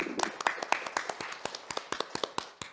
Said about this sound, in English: Please welcome Mr. Chu Hua-ching with a big applause.